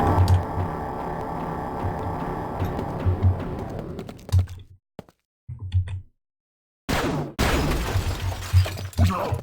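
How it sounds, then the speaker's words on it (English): Glass shattering in Quake II: a loud crash of breaking glass with scattered tinkling debris, followed by gaps of silence and another abrupt burst of crashing. "That glass blew up."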